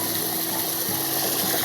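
Running water while a chicken water bucket is washed, a steady close rush and splash with a faint mechanical whir underneath, continuous throughout the short stretch with no talking.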